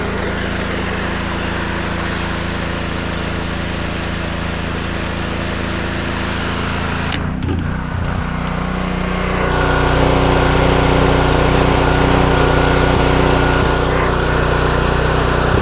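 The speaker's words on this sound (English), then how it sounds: "So that's the Honda GX200 2765. And just to recap, it's running at 2700 PSI" A Honda GX200 petrol engine drives a pressure cleaner at 2700 PSI, a steady loud hum that continues throughout, with a brief shift in tone partway as the spray changes against a driveway surface.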